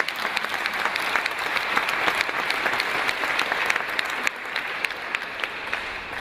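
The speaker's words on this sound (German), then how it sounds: "You all give him a good clap." An audience claps steadily for several seconds, a dense patter of many hands at even loudness with no voices over it.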